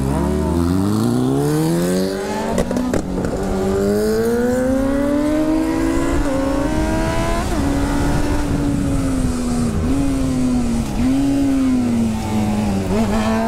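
A motorcycle engine runs steadily and loudly throughout, its pitch rising and falling as it revs through gears while riding, with wind noise on top.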